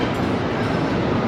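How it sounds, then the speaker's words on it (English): A train rolls through central Oslo near the Opera House, a close, steady rumble of wheels and rail noise with no voices. "So another one of these trains going through town."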